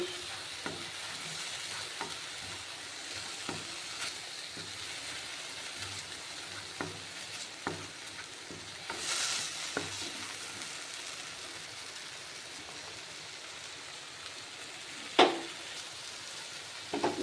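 A peanut and cashew paste sautés in a pan for a vegetarian banana-flower dish, with a soft continuous sizzle broken by occasional spatula taps and scrapes, no talk.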